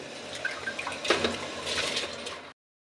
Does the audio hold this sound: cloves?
yes